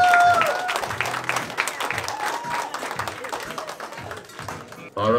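An audience at a powerlifting meet bursts into sustained applause, a dense crowd of clapping hands that swells at the start and rattles on for several seconds before a voice cuts in at the end.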